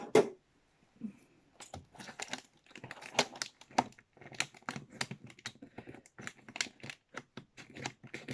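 A sturdy package is cut open with quick, irregular snipping and crinkling sounds, close and fairly faint, continuing without speech.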